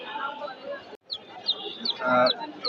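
Small chicks cheep in a quick run of high, rising peeps, repeating several times, with a person's voice talking underneath, at a pigeon market.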